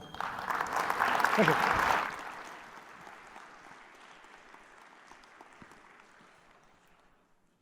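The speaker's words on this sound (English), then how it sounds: "Let's give these guys a round of applause." Conference audience applauding after a talk on warranty chip seals, loud clapping for about two seconds then fading into scattered claps and room murmur, with a brief spoken thanks.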